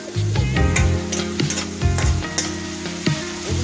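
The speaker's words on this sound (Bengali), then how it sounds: "এভাবে হালকা আঁচে মাছগুলো ভেজে নিচ্ছি।" Small chapila river fish frying on low heat in a pan, a steady sizzle broken by repeated loud metallic scrapes and clanks of a turner, close and prominent, with no speech.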